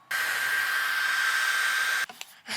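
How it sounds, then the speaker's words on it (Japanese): A hair dryer blows a steady, loud, hissing stream of hot air with a high whine while heating the screen corner of an iPhone 6S Plus during repair, then cuts off abruptly, leaving brief handling noises. "ドライヤーで温めながら回してピックを回していく"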